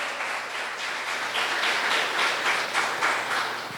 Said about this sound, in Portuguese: Vamos receber então o pastor Júnior, com uma linda salva de palmas